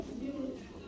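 A pigeon, likely a female, coos in low, steady murmurs held close to the microphone for under a second.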